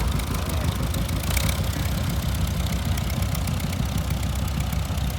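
A John Deere Model GW tractor runs at a steady idle in a tractor parade, its loud, close engine giving a continuous low chugging rumble with no change in pace.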